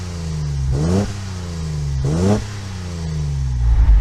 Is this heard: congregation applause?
no